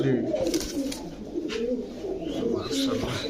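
Pigeons coo in soft, low, repeated warbles close by, with someone talking over them.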